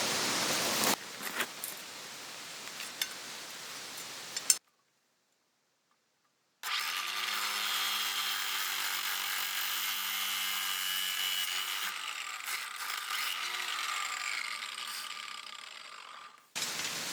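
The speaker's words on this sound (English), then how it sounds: "To the grinder!" An angle grinder cuts stones for a bush fireplace outdoors, a loud continuous abrasive whine and hiss held for about ten seconds after a short silence, with pitch dipping as the blade bites.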